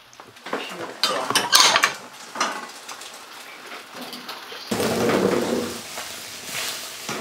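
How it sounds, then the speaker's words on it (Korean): Rice bowls and dishes clatter and clink as they are washed by hand in a home kitchen, close and fairly loud, with a burst of running water near the end. "자신이 먹은 밥그릇은 꼭 설거지 해놓는 시어머니."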